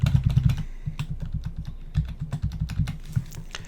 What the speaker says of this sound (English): I'm going to throw in my test card for Stripe.